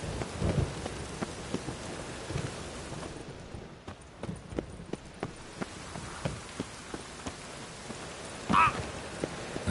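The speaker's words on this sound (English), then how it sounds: "A storm, damn it." Steady rain patters down through a rainstorm while a low rumble of thunder rolls beneath it, with scattered sharp drips standing out near the end.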